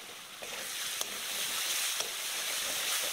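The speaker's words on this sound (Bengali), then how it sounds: "এই বাটা মশলাগুলো তেলে একটু নাড়াচাড়া করে কষিয়ে নিচ্ছি" Garlic and ginger pastes fry in hot oil while being stirred for a Bengali chicken kali mirch, giving a steady close sizzle with occasional soft scrapes and clicks of the spoon against the pan.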